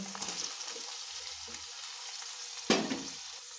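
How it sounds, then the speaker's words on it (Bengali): Chopped tomato hits a pan of frying food for a pomfret fish dish, giving a low, steady sizzle with a sharp burst of hissing partway through as the tomato goes in. "এটা দু তিন মিনিট ভাজা ভাজা হওয়ার পরে এর মধ্যে আমি টমেটো কুচি"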